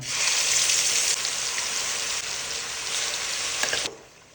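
Ground gooseberry paste hitting hot sesame oil, a loud, steady sizzling hiss close by that holds for about four seconds, then drops away sharply.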